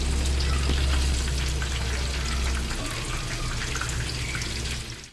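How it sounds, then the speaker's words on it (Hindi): Koftas fry in hot oil, making a loud, close, continuous crackling sizzle that stays even for several seconds before cutting off abruptly; no one speaks. "देखें सारे कोफ्ते हमारे फ्राई हो गए हैं"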